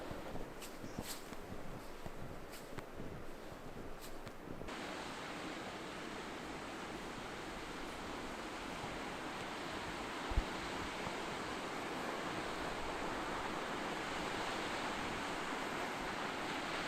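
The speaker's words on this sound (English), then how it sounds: "And of course, it is our backyard waterfall." A backyard waterfall in the mountains of Northern Norway gives off a steady, distant-sounding rush of falling water, soft and unbroken throughout, with no talking.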